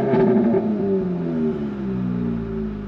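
Volkswagen Alltrack fitted with an AWE Touring exhaust, heard from inside the cab: a steady, moderately loud engine drone with harmonic tones that fall gradually as the revs drop, with no talk.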